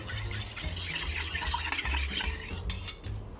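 A utensil stirs steadily around a bowl of egg mixture seasoned with soy sauce, a continuous scraping swirl with light clinks, close and alone, no voices.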